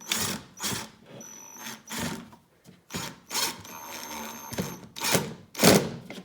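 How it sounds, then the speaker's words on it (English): Short whirring bursts of a power drill boring into a wooden drawer start and stop repeatedly, mixed with knocks and scraping against wood, fairly close. "So you want to make sure you get the drill low enough."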